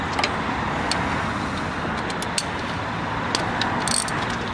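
Road traffic passing on an afternoon street, a steady broadband rush of cars with faint clicks and rattles on top, continuous and moderately loud with no talk.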